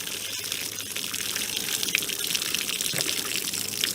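Liquid is poured out of a container in a steady, close gushing splash that runs for about four seconds without a break, with no talking.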